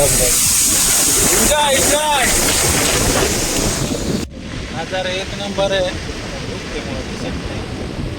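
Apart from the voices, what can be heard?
waterfall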